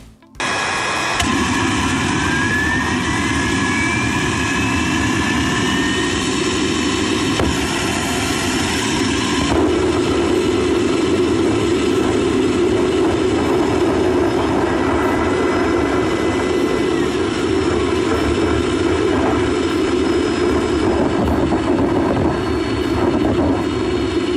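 A homemade self-sustaining afterburning turbojet engine runs with a loud, continuous roar and a rising whine as it spools up, then holds a steady, powerful drone throughout with no talk.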